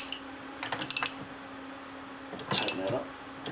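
Bolt being tightened on a Briggs engine: two short bursts of metallic clicking and ratcheting, close and fairly quiet, separated by a pause over a faint steady hum.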